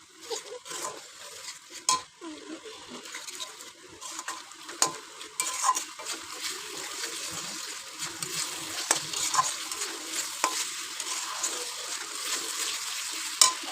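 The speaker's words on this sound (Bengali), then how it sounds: "পটল আলু লাল লাল করে ভাজা হয়ে যাওয়ার পর এই সমস্ত মশলা দিয়ে কড়াই তেলের মতো নাড়াতে দিচ্ছিলাম।" A spatula stirs spices through fried potol and potato in an oiled wok, scraping and clinking against the metal in irregular strokes over a constant sizzle, close and with no talking.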